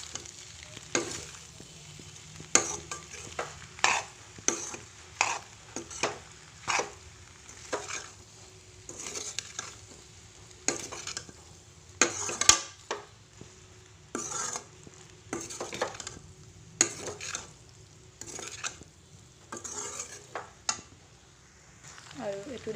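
Food being stirred in a frying pan with salt added, giving repeated bursts of scraping and clinking from a spatula over a low, steady sizzle, fairly near, with talk at moments.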